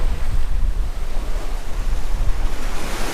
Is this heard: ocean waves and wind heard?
yes